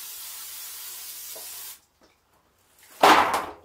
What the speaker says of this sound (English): First, I'm going to spray my pans here. I'm just going to give them a quick spray.